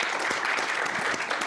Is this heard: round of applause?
yes